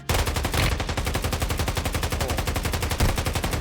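Rapid automatic gunfire in the mobile shooter Warzone Mobile, a dense, loud string of shots firing continuously and close without pause.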